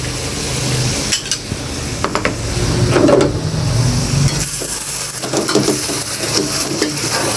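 Yogurt is stirred into a chicken handi in a pot on a desi kitchen stove, with a loud, continuous scraping and stirring over a steady sizzle and occasional knocks of the utensil against the pot.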